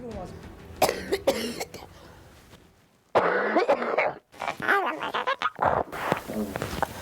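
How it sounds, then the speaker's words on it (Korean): Someone coughs in bursts, a few harsh hacks early on, then a longer coughing fit mixed with voices talking nearby. "기침이 평소에 이렇게 심하셨어요?"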